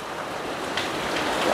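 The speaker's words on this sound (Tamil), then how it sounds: "மழை பயங்கரமா தெரியும்." Heavy rain pours in a dense, steady hiss that swells slightly toward the end of a brief stretch, with no voices.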